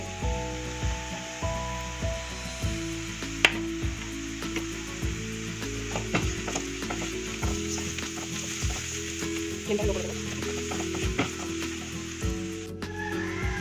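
Spice masala for a restaurant-style tarka fries in a pan, with a soft continuous sizzle under regular scraping strokes of a spoon stirring the mixture at a steady rhythm.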